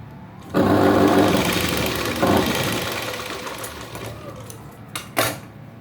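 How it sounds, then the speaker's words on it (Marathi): A sewing machine edge-stitches along a blouse, starting with a sudden loud whirring run, easing off briefly and resuming, then fading with a couple of short bursts near the end, close and alone. "आणि आता याला किनारी शिलाई मारून घ्यायची"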